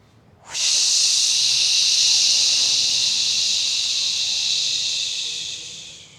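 A forceful, sustained breath exhale hisses out close to the microphone, starting abruptly and holding steady for several seconds before gradually trailing off.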